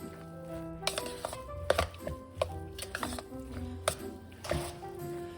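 Leftover potato filling being stirred with mild cheese in a bowl, a series of soft scraping and clinking knocks of utensil against dish at an irregular rhythm, close and moderately quiet.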